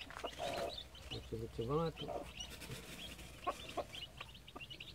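Soft clucking from a free-range village hen brooding her eggs mingles with faint peeps of newly hatched chicks nearby, while a person speaks quietly over them.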